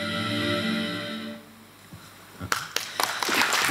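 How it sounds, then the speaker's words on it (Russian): An audience at a Russian literature and cinema film festival applauds guest Laura Guerra, with clapping that swells up suddenly after a fading sustained musical tone and continues close and loud. "Аплодисменты нашей гости Лоре Гуэре."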